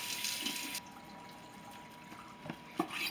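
A sushi knife is rinsed under a running kitchen tap: a short gush of water, then quieter trickles and a few drips nearby.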